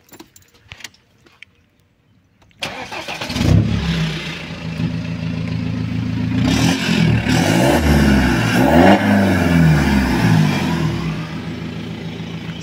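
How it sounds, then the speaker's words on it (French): A BMW 318d four-cylinder diesel cranks and catches after a few quiet seconds with light rattles, then idles loud and close before being revved repeatedly in rising and falling swells. "Après, c'est un bruit diesel, ça fait pas des pop"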